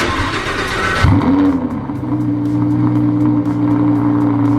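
A Lamborghini engine cranks and catches with a sharp, loud start, sweeps upward in one quick rev, then settles into a steady, deep idle close by.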